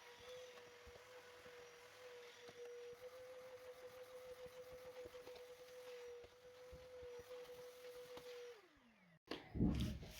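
A vacuum cleaner runs steadily on a floor with a constant humming whine and faint scraping as it moves, then its motor winds down and stops near the end, followed by a brief clatter.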